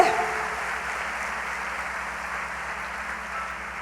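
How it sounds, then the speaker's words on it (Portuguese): A church congregation applauds, a dense steady wash of clapping that holds evenly throughout, moderately loud and diffuse across a large room. "Você pode dar uma salva de palmas?"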